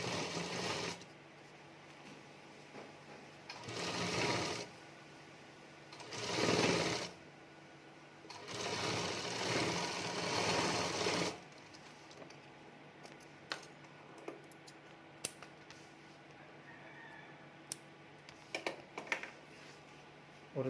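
A normal sewing machine stitches a fabric strip as piping to cover a seam, whirring in four separate bursts of a second or two each, then falling into quiet handling clicks and taps.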